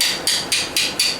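A hammer strikes a 1973 engine block during a 305 teardown, aiming between two cylinders: about five sharp metallic blows in a steady rhythm, close and loud.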